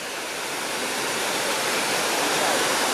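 Water pours steadily into the memorial pool in Lower Manhattan, New York City, a dense, loud, continuous roar of falling water close by, slightly swelling, with no clear talk over it.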